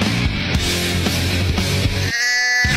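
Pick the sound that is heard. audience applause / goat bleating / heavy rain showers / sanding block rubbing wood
goat bleating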